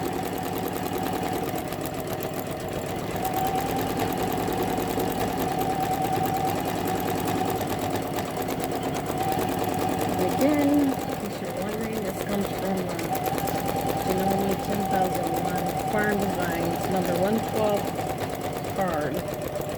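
A Janome Memory Craft 10001 embroidery machine, an older model, runs steadily stitching out a scarecrow design, a continuous close mechanical whir with a voice talking over it partway through.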